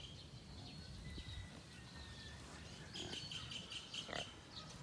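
Piglets in a pen on a pig farm, faint grunts and squeals against steady low background noise, with birds chirping at a distance and a few soft knocks.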